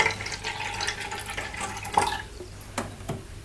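Water pours into a graduated measuring container, a steady faint trickle with a few soft splashes and drips near the end, alone with no voices.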